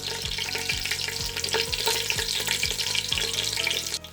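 Bay leaves and star anise frying in hot oil for brinji rice, a bright continuous crackle and sizzle with a steady, regular scraping of a spoon stirring the pan, close and alone.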